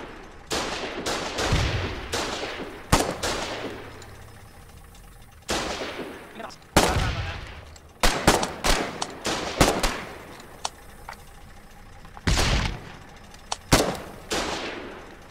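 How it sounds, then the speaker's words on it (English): Gunfire in the war video game Foxhole comes as sharp cracks, single shots and short rapid bursts scattered throughout, some loud and close, others fainter, with shouting voices under the firing. "Quit fucking shooting!"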